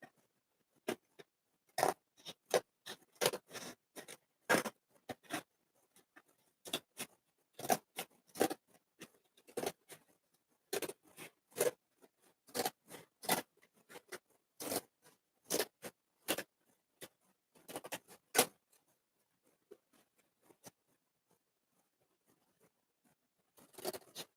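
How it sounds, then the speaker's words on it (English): Scissors snip through cardboard strips, two pieces at a time, so each cut has a rough, tearing crunch. The snips come in quick irregular bursts, close and fairly loud, with no talking. "use the scissors to get a more straight cut, but as I'm doing it, it's like tearing the cardboard since I'm trying to do 2 strips at a time"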